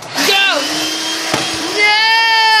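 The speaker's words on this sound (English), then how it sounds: "power of turning on a vacuum cleaner" A vacuum cleaner switches on with a rising whine that settles into a steady motor hum, briefly dipping before whining up again.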